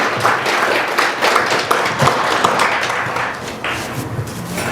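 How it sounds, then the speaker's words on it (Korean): Audience at a Korean book launch event gives a round of applause for the opening speaker, moderately loud clapping from a modest crowd in an indoor hall, fairly uneven and lasting a few seconds. "힘찬 박수 부탁드립니다"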